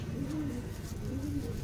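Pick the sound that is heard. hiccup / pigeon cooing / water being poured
pigeon cooing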